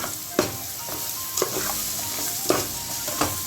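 Fenugreek leaves with turmeric, chili powder and salt stirred in a pan for menthi kura pappu, with spoon scrapes landing about once a second over a constant close frying sizzle.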